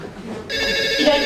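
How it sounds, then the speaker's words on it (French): Telephone starts ringing partway through, a bright, steady electronic ring that continues to the end. It sits over a faint room background. "Il y a le téléphone qui sonne."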